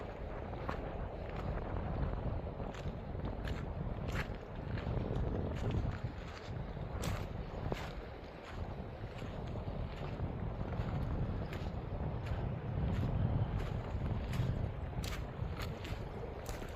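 Strong wind buffets and roars across Maligne Lake in Jasper National Park during a canoe trip, a loud, constant rush with gusty microphone thumps and faint water movement, no voices.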